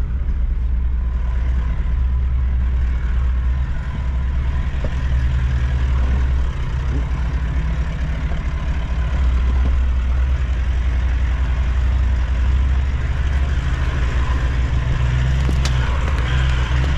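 A Toyota 79 Series Landcruiser engine labors steadily up a hill on a rough track, a loud continuous low drone filling the cabin with no pauses.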